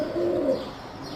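Pigeon cooing near a nest with eggs, a soft low repeated coo rising and falling over a second, faint and alone with no talking.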